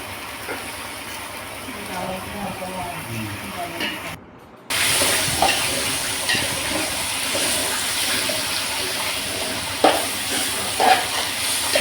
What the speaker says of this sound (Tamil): வெங்காயத்தை எண்ணெயை ஊற்றி வெங்காயத்தை போட்டு நல்லா வதக்க போகிறோம்